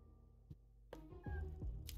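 A cat meows in the adventure game Deponia, a couple of short, close meows near the end after a few faint ticks, with no talking.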